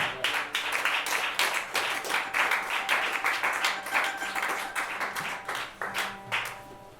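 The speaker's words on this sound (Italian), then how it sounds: "E allora applauso per questa forza." An audience in an Italian television studio applauds in a dense, steady burst of clapping that lasts several seconds without a break.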